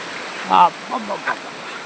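Water from a large waterfall in the Palakonda hills of Kadapa rushes steadily in the background while someone speaks a few short phrases over it.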